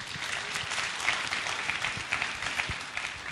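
A church congregation applauding, a dense, continuous clapping from a crowd in a hall that holds steady for a few seconds with no talk over it.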